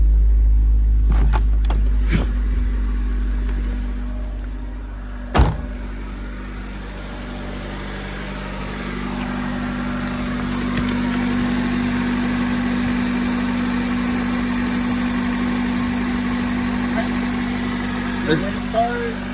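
A 1999 Honda Civic EX engine starts after an oil pan gasket replacement and settles into a steady, close idle hum with a few small clicks and knocks. People talk over it.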